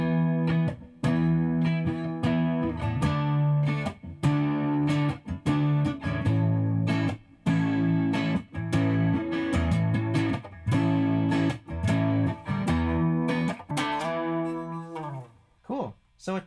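A clean Squier Paranormal Stratosonic electric guitar on the neck pickup plays chords and riffs with a shimmering, warm chorus tone, close and loud, with brief pauses between phrases.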